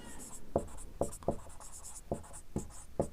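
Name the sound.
writing on a board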